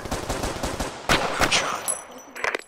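Rapid gunshots from the VR shooter game Crisis VRigade, a fast run of sharp close shots followed by a few louder, spaced blasts and a brief metallic clatter near the end.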